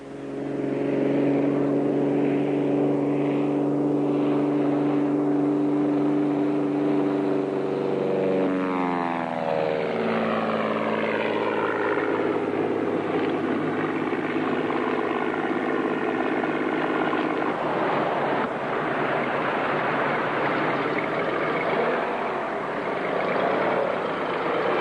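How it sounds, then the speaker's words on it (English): A seaplane and a helicopter fly over an Everglades setting, a loud droning propeller engine sweeping past with a falling pitch as it crosses overhead, then a sustained rotor and engine roar fading slightly, with no talk. "That seaplane just went over again."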